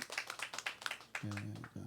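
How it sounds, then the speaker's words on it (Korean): A small gathering at a church study session claps briefly, a handful of separate close claps before speech takes over. "박수하겠습니다"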